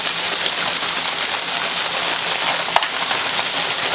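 Steady, even sizzling hiss as frozen shrimp scampi goes into a hot pan with egg noodles, loud and continuous with a single faint click near the end, no voices.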